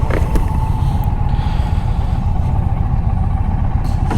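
A 2021 Indian Challenger motorcycle engine runs steadily at idle close by, with a constant low rumble and a faint mechanical hum and no speech over it.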